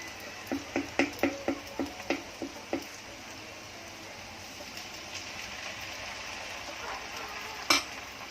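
Bhanori frying in ghee in a frying pan, a steady low sizzle beneath a quick run of rhythmic tapping knocks early on and a single sharp clink near the end.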